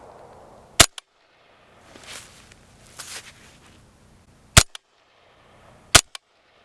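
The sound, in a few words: suppressed AR5-SD rifle firing subsonic rounds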